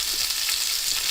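Spinach frying in olive oil in a large, very hot pan, making a loud, dense, continuous sizzle up close.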